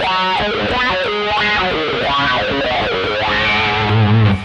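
Distorted electric guitar riffs through the wah of a Rocktron Black Cat Moan pedal, the tone sweeping up and down in a loud, continuous run of notes.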